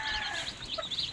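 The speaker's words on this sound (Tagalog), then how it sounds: "Dami pong alaga ng mga kapipisa." Newly hatched chicks peep in high, rapid chirps alongside their mother hen, a brief and fairly close chorus with no talking.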